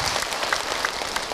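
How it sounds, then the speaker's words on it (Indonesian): A crowd at a religious talk claps together in a dense, steady patter of many hands, brief and fairly loud. "Tepuk tangan untuk kita semua."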